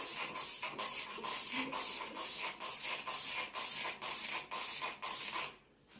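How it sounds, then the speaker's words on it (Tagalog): A homemade DIY cleaner is sprayed into a toilet bowl in a quick, steady series of about a dozen hissing trigger-spray bursts, close and fairly loud, with no talking. "if you're in a hurry and you want to have a little cleaning of your toilet, you can just do a little bit like this, spray it in here"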